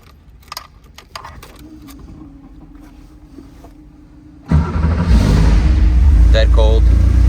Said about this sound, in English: You go ahead and turn it on, cold start.